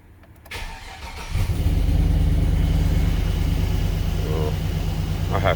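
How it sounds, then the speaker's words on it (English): A 2006 GMC Sierra 1500 pickup with a swapped-in V8 cranks briefly and catches, then settles into a loud, steady idle that rumbles on without a break. "showing you how I start the truck"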